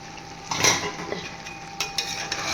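A utensil scrapes and clinks against a pot of mutton curry with soaked cashews, a few close metallic knocks over a low background hum.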